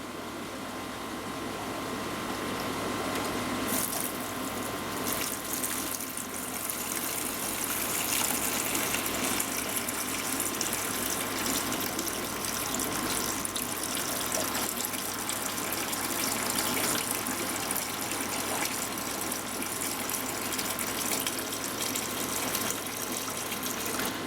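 An aquarium gravel siphon drawing water from a sand-bottomed fish tank down into a bucket, a continuous rushing, gurgling flow that starts after a few seconds and runs steadily for the rest of the stretch.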